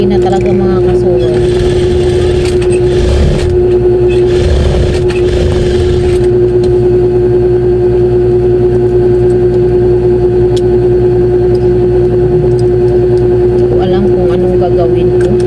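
A sewing machine hums and rattles steadily close by while a dress is sewn, its motor droning continuously under someone talking for much of the time.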